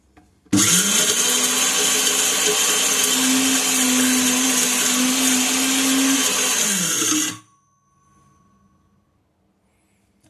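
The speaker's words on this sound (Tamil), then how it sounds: "இதை அரைச்சிருவோம்" A mixer grinder whirs loudly and steadily for about seven seconds as it grinds dried biryani masala spices, then cuts off abruptly, leaving near silence.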